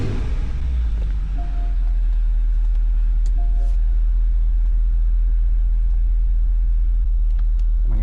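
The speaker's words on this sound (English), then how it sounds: "Let's go ahead and turn the car on." A Porsche Cayenne's engine settles into a steady, low idle rumble that fills the whole stretch, with a heavier burst of turnover at the very start and a few faint clicks over the top.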